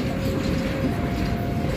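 An Indonesian train passing near Bandung, made up of one locomotive and one auxiliary rescue wagon: a loud, steady, close rumble of wheels and engine with no clear clacking rhythm and no voices.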